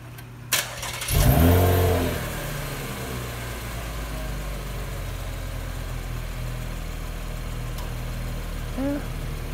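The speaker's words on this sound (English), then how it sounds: "let's do a little cold start. This is in sport mode." A Chevrolet Camaro in sport mode cold-starts with a starter whir and a sharp flare of revs, then drops into a loud, steady, rumbling idle that carries on alone to the end, with a brief blip near the close.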